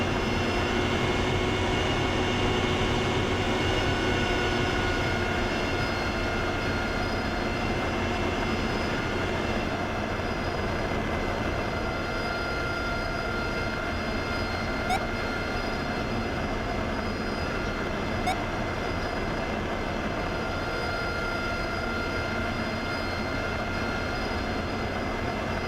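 An aircraft in a flight video game rolls out after touchdown on a rough runway, a steady, loud engine drone with a continuous rumble and a couple of faint clicks, no voices.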